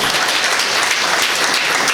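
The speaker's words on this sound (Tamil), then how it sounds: "மிகப்பெரிய கைத்தட்டலை நம்ம இந்த அரங்க பதிவு செய்ய." A hall audience at a speaking event applauds continuously, a thick, even wash of many hands clapping with no pause or voices breaking through.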